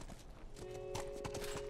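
Rhythmic clip-clop of horse hooves at a walk in the video game The Last of Us, fairly close, with a steady tonal hum running underneath.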